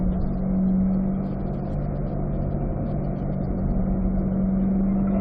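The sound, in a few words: race car braking and downshifting to third gear on track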